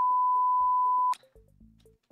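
A single steady censor beep tone from the Five Nights at Freddy's 6 video game lasts about a second, followed by brief in-game clicks and low tones.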